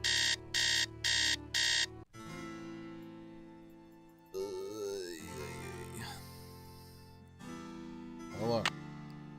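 An alarm clock rings in the Nancy Drew game Treasure in a Royal Tower, sounding as four loud, evenly spaced electronic bursts at the start. Game sounds and a voice follow once the ringing stops.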